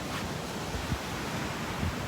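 Water washes against a shore in a steady, broad rush with faint surges, continuous and fairly loud, with no voices.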